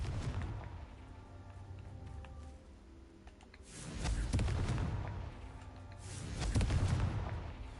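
Confringo fire spell blasts in Hogwarts Legacy, two loud booming explosions a few seconds apart over a steady game ambience, each swelling and fading.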